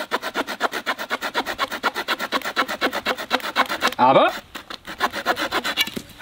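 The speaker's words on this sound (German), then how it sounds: "Wir werden jetzt diesen Haselstecken durcheinander durchsägen." A hazel stick is sawn with the small saw blade of a Leatherman Super Tool 300 multitool, making fast, even back-and-forth rasping strokes close up, with someone speaking briefly partway through.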